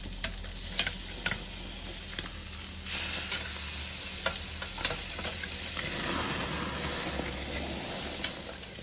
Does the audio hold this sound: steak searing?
yes